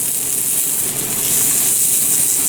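Onions sautéing in a pan alongside pan-roasted chicken, giving a steady, bright sizzle and hiss that stays close and constant with no talk.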